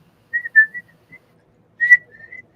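A person tries to whistle, producing a few short, thin, breathy whistled notes in two small bursts separated by a pause, fairly close and alone without talk.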